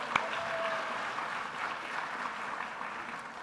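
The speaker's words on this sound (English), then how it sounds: "I'll lead the applause" Audience applause at a fall convocation ceremony, a steady moderate clapping wash from a crowd that carries evenly through and fades slightly at the end.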